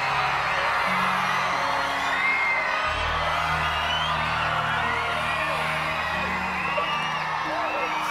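A large convention-hall audience at MINECON screams, whoops and cheers loudly throughout, a dense sustained crowd roar with scattered yells rising above it.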